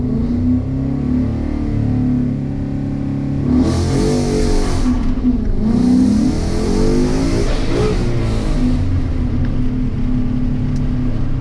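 A Ford Mustang with an MT-82 manual gearbox revs hard through the gears, rising in pitch, dropping at a shift, then climbing again, loud and close; second gear struggles.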